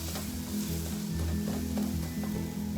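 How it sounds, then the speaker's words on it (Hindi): Eggs sizzle and crackle in an oily pan while being fried and scrambled for Chinese chicken fried rice, a steady close hiss with occasional scraping stir sounds and no talking. "इसको स्क्रम्बल करते जाएंगे और फ्राई भी करते जाएंगे।"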